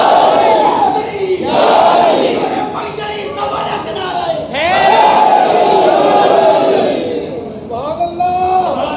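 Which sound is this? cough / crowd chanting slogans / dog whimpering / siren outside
crowd chanting slogans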